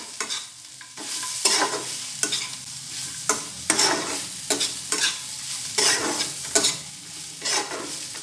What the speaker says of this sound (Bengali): বড়িটা দিয়ে আর একটু নাড়িয়ে নিলাম